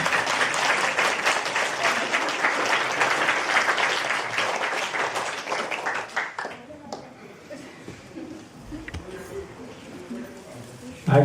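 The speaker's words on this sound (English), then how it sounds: "Give her a clap for that." An audience applauds after a children's play, steady clapping for about six seconds that fades out, with a few scattered claps and quiet murmuring afterward.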